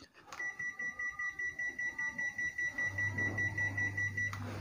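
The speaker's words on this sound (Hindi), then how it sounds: "और देखें जी यूनिट ने जो है वो बीप किया है।" Panasonic DC inverter air conditioner unit with an F90 error code giving a long steady electronic beep for several seconds, fairly clear, followed by a low hum near the end.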